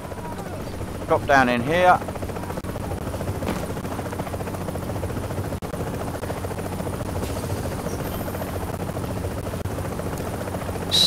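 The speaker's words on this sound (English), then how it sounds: "Your helicopter's coming in." Helicopter from The Division coming in for an extraction, a steady whirring rotor drone running under the whole scene while a voice speaks over it, with a brief sharp burst near the start.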